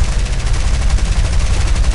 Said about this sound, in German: Wie kann man eigentlich in so kurzer Zeit so viele Schüsse abgeben?